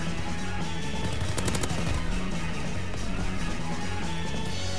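Rapid automatic gunfire from a World War II shooter game rattles continuously and loudly for several seconds, dense bursts over a constant rumbling game soundscape.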